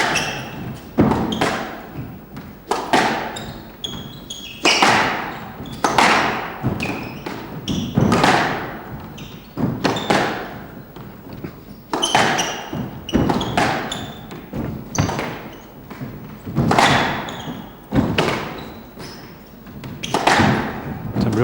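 Squash ball struck by rackets and thudding off the court walls in a match between two players, a rapid series of sharp knocks and echoing thumps with a commentator talking over the rally.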